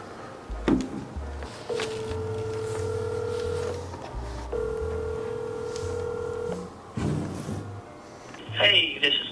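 An outgoing phone call to a contractor rings back through a handset, two long ring tones separated by a pause, with someone talking quietly over and between them.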